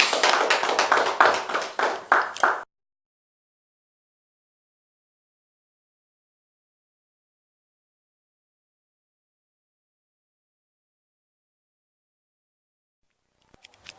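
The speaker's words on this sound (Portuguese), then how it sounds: "Em nome de Jesus Cristo, aplauda o Senhor." A congregation at a church service gives a short burst of dense clapping, lasting a couple of seconds, then cuts off into long silence with a faint knock near the end.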